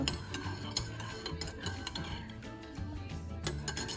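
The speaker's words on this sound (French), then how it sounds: "J'ajoute mon thé, je mélange." A spoon stirs ginger tea in a cup, giving soft repeated clinks and scraping taps at a steady pace, faint and close with no talk over it.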